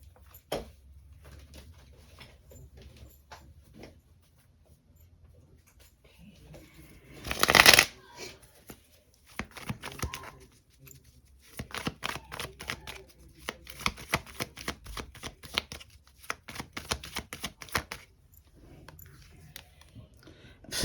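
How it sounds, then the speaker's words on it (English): Tarot cards are shuffled repeatedly with quick riffling and snapping bursts, one loud flurry early on, while birds coo faintly in the background. "Let me shuffle this up real good."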